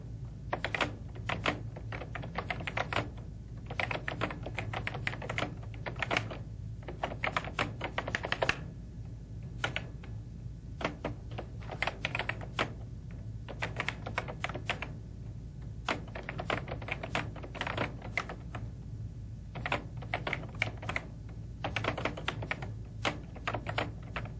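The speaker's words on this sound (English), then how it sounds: "We'll continue typing." Steady typing on a computer keyboard, with quick bursts of close, crisp key clicks broken by short pauses, running alone without any talk.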